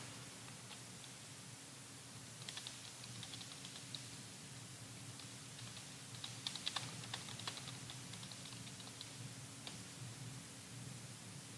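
Soft, scattered keystrokes on a computer keyboard clatter faintly and irregularly over a steady hiss, with a brief denser burst of taps partway through and no talking.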